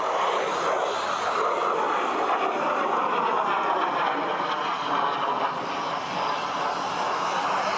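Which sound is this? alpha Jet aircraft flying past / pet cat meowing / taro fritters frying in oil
alpha Jet aircraft flying past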